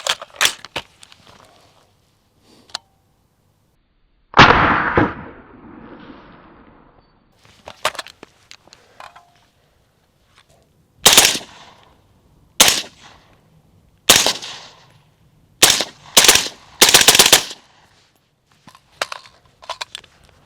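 An AR-15 carbine with a carbine-length gas system and a JP adjustable gas block fires loud, close gunshots in irregular singles and quick clusters, with quiet gaps and small clicks between them.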